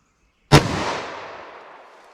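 A single loud, close gunshot from a custom 10mm 1911 pistol with a 5-inch barrel firing solid copper rounds, a sharp crack followed by a long, fading outdoor echo.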